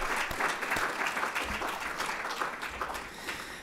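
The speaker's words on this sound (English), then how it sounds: "Let's give them a round of applause." A crowd gives a round of applause at a school event honoring graduating students, many hands clapping in a steady wash with a few sharper nearby claps, easing slightly toward the end.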